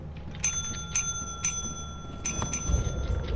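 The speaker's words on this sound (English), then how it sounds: "Alright, I'll ring the bell." A ringing bell in the Lethal Company video game sounds five times in a quick, bright series of metallic dings, each with a clear sustained tone, over low background noise.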